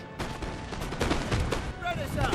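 Musket volleys crack out in a Total War: Napoleon battle, a ragged run of overlapping shots with rolling rumble, steady at mid distance, under a voice speaking.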